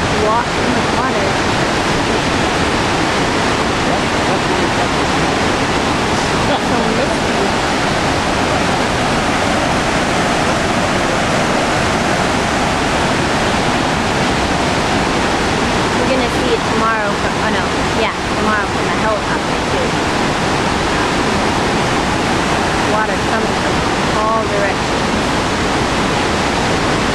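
A roaring waterfall fills the scene with a steady, loud wash of rushing water that never lets up.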